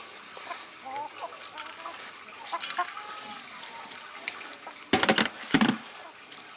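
Chickens cluck and murmur intermittently nearby at an automatic chicken feeder, with louder rustling and thumps toward the end.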